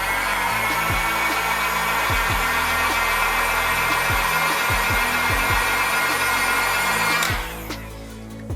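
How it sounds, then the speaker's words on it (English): A heat gun blows steadily on a Samsung Note 20 5G phone during a battery replacement, a loud continuous rushing hiss with scattered clicks and taps that cuts off near the end, leaving a quieter hum. "Maybe you can give it a quick blow with a heat gun."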